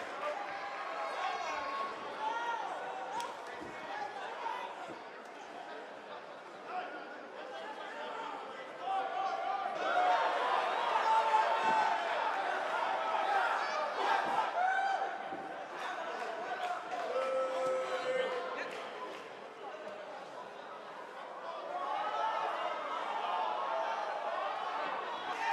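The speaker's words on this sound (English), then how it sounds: "it seems to me like this is the one this sold-out crowd came to see" Sold-out wrestling arena crowd, a broad murmuring chatter and rumble that swells and ebbs, rising louder midway, with an announcer's voice talking over it.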